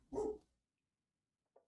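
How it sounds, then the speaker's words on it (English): One dog gives a short, muffled bark indoors, followed after a pause by a faint, brief yip, with near silence in between. "my dog's barking now."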